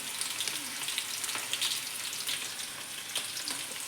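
Garlic, cumin and mustard seeds crackle and spit in hot oil for sambar, a dense, close sizzle with many small pops scattered throughout.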